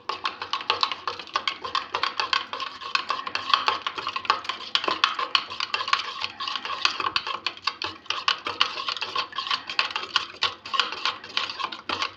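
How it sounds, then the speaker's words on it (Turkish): A spoon stirring coffee and sugar in a cup, rapid continuous clinking and scraping against the sides, close and steady throughout. "karıştıralım. Kahvemiz, şekerimiz erisin."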